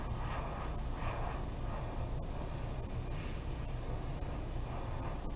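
Aerosol spray paint in moss green being applied in a steady, continuous hiss that stays close and fairly loud throughout, with a few brief breaks in the flow and no talking.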